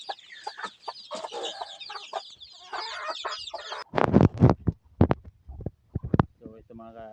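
Broody hens cluck in a busy, scratchy chatter on a farm for the first few seconds, followed by a person talking over a few sharp knocks and quieter clucks.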